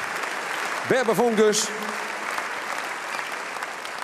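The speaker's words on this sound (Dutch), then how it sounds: "Geef een applaus." Audience applause at a Frisian sports gala, steady clapping throughout while an announcer's voice briefly speaks over it near the start.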